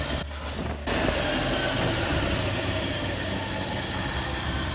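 An engine idles steadily and smoothly after its carburetor has been adjusted, with a close, even running drone that holds without a break through most of the stretch and no talking.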